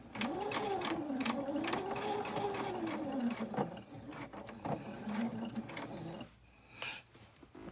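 A sewing machine runs back over a quilt seam with rapid, clattering stitches up close. The run falters briefly mid-way and quiets near the end before a short final burst.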